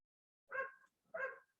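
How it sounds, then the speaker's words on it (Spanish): A small female dog barks twice, two short, clear yips about half a second apart, heard from a little distance in an otherwise quiet indoor room. "¿Escuchan a una perrita que ladra?"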